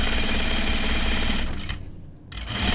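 Close, loud sewing machine stitching on men's work pants, a dense mechanical rattle that runs steadily, dips briefly as the machine slows near a seam edge, then picks back up.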